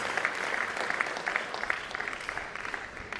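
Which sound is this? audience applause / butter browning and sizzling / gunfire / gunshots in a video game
audience applause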